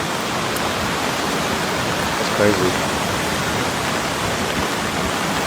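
A flooded Texas creek roars with rushing water in a steady, loud broadband wash that never lets up; a voice speaks briefly over it midway.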